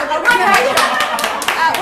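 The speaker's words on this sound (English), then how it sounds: "Round of applause if you heard of Tom Cruise" A brief burst of audience applause for a mention of Tom Cruise, clapping loud and close for a couple of seconds with a few voices murmuring and chuckling underneath.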